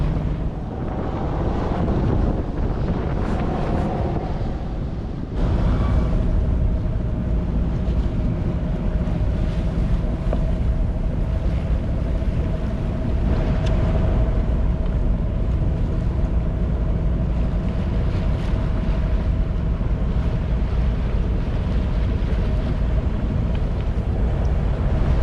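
Sailboat motoring into Barcelona port against a strong headwind in heavy seas, with a steady low engine drone, water rush and wind buffeting the microphone throughout, no voices.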